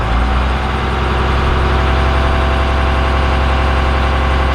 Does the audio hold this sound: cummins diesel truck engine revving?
yes